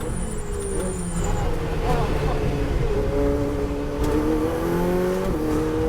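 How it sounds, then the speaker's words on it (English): A Ferrari race car in the Ferrari European Challenge, out of fuel on the last half of the final lap, drones with a steady engine note that wavers and stutters, heard close from onboard. "the car's stuttering quite a bit, and that's because we've actually run out of fuel on the very last half of the very last lap"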